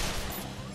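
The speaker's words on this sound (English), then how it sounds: "and then we hit the shotgun" A shotgun blast in the video game Resonance of Fate, a short, dense burst of noise filling the whole brief moment, loud and close with a quick tail and no other sound over it.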